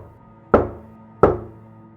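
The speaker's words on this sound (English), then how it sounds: "The knocking started again. 3 slow knocks." Two heavy, slow knocks thud on a door about three-quarters of a second apart, loud and close, each with a booming decay over a low background hum.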